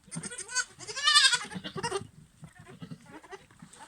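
A goat gives a loud, quavering bleat close by in a sheep and goat pen, followed by a second shorter call and quieter shuffling.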